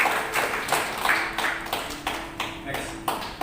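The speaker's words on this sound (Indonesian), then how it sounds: "Tepuk tangan Tuhan." Church congregation clapping at a worship service, a short burst of scattered, uneven hand claps at moderate distance with a voice speaking over them.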